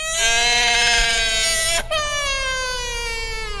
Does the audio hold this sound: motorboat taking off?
no